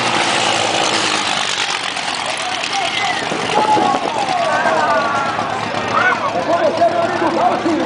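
A vehicle engine revs and builds up speed as it accelerates on a track during a first reconnaissance lap, a steady mid-pitched drone with rising whines throughout, while people talk over it.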